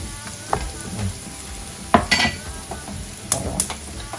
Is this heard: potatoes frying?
yes